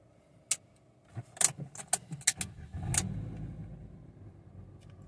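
Car keys for a Fiat Grand Siena 2021 jingle and clink in a quiet interior, handled in a few sharp bursts followed by a softer rustle.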